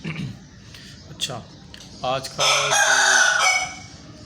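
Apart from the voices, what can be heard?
rooster crowing in background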